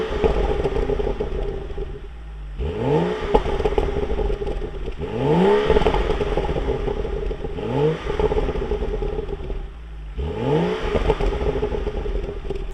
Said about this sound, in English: that was the stock exhaust, the stock burbles pretty much with the exception of the air intake